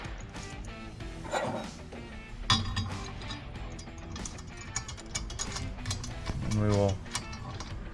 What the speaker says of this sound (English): we'll use a hex or an Allen to tighten that in.